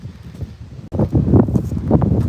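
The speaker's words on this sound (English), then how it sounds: "Oh, it's windy." Gusty wind buffets the microphone outdoors at a Friesian horse field in the early morning, a loud rough rumble that drops out briefly then returns stronger.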